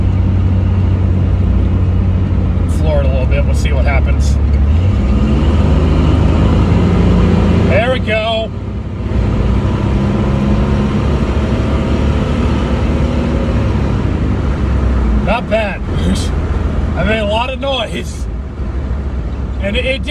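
A 1988 Chevrolet S10 Blazer engine pulling at full throttle, a loud sustained drone from inside the cabin that climbs in pitch, dips and climbs again, with people talking over it in places.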